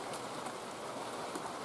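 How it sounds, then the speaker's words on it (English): Steady rain falls outside, a dense, even hiss that keeps going without a break and stays at moderate loudness. "I'll be happy to hold off while it rains"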